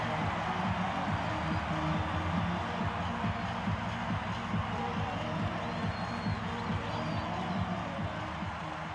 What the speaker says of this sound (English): I love listening to the crowd when you see a catch like that